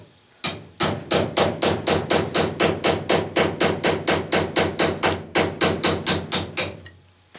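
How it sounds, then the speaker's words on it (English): A hammer drives a round nose cold chisel into a piece of aluminum with about twenty-five sharp, evenly spaced metallic strikes. The blows are loud and close in a steady rhythm, with no talking. "Here's a piece of aluminum with the round nose chisel. Let's see what it does."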